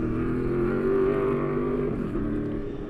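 A race car heads out for qualifying at a dirt track heat-race event, its engine a loud, steady droning growl that holds and then eases slightly toward the end.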